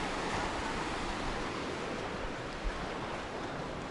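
Steady surf washing along the Azov Sea shore, a continuous broadband wash of small waves lapping at the water's edge, even and unbroken throughout, with one brief soft bump near the end and no voices.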